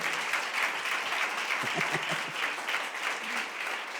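A church congregation applauds in a steady, dense wash of clapping that fills the room and stays loud throughout, with a brief voice showing through midway.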